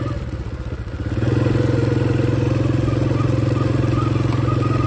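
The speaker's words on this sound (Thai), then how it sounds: "ต้องขี่เลนกลางนะพี่น้อง มันลื่นมันปัดท้าย" Motorcycle engine running steadily on a slippery, muddy rural road in the rain, a loud continuous drone that settles into a smooth rumble after a rougher start, with faint clatter.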